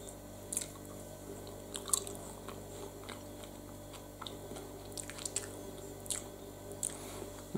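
Someone chews a small raw piece of wild winter purslane, with faint, moist crunching and squishing bites spread unevenly over a quiet background.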